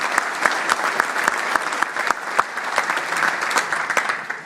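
Crowd applauding at a New York State trooper graduation ceremony, a full, sustained round of clapping from a large audience with sharp individual claps popping out of the steady roar.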